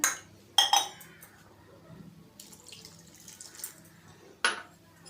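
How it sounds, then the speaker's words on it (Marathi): Water poured into a bowl of khandvi batter for a few seconds, framed by sharp clinks of a metal utensil against the dish. "अजून एक वाटी आपण पाणी घालतो आहे"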